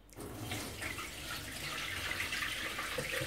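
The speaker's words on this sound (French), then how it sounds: "je vais prendre ma passoire et je vais transvaser" Water pours from soaked okazi leaves as they are tipped into a strainer, a soft, steady splashing rush heard alone and fairly faint.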